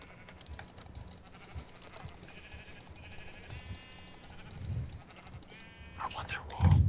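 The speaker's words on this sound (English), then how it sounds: "Kill the sheep." Sheep bleat faintly in a Minecraft-style video game amid clicking game mechanics, with people talking over it and a louder sound near the end.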